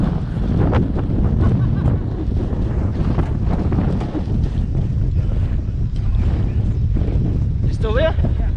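Strong wind buffets a fishing boat out on the water, a loud continuous roar of gusts hitting the microphone with waves sloshing beneath and a brief squeaky sound near the end.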